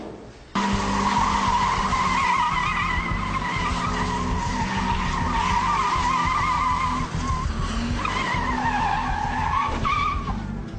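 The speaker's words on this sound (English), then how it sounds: "Reported a vehicle doing donuts in the car park behind the Shire offices in Penhope Road" A car doing donuts in a car park behind council offices, tires squealing and skidding almost continuously for about ten seconds over a revving engine, loud and close, with no talk.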